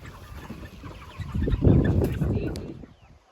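Broiler and layer chickens cluck in pasture pens on a farm, a soft cluster of close clucks that rises to a busier peak midway, then fades to quiet.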